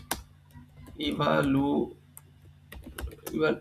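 Typing on a computer keyboard, scattered quick key clicks heard close up, mixed with someone speaking in the middle and toward the end.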